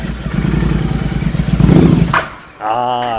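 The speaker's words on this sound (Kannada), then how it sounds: "ಇವಾಗ ಗಾಡಿನ ಸ್ಟಾರ್ಟ್ ಮಾಡ್ತಾ ಇದ್ದೀನಿ" A motorbike starts with a short engine burst and clatter, then a brief lull before a higher tone that fits a shift into gear, all loud and close.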